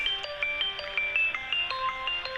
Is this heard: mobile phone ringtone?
yes